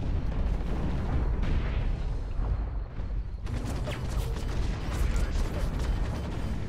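Incoming weapon fire in the mech combat game Hawken, dense loud rumbling impacts and mechanical rattling bursts, briefly dipping then resuming with sharp crackling hits, continuous and close.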